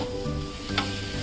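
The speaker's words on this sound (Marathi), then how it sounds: "एक अर्धा मिनिट हे पण चांगलं परतून घेऊया छान" Raw mango pieces coated with red chili powder sizzle steadily in a hot pan, with a soft scrape of stirring partway through; close and continuous, no talking.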